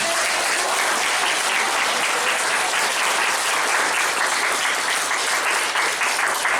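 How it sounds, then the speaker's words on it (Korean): Loud, sustained applause from a large church congregation during a worship service, dense and even clapping filling the whole stretch without pause. "영광의 박수를 한번 드립니다"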